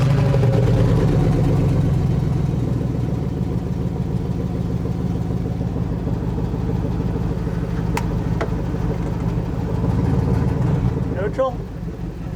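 A Chevy LS V8 swapped into a Toyota Celica idles with a steady, loud, low rumble throughout, dipping slightly toward the end, with a couple of brief clicks partway through.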